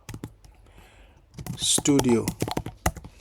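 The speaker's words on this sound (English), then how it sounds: "if I type here" Quiet keystrokes on a computer keyboard tap irregularly, close by, while a person speaks over part of the typing.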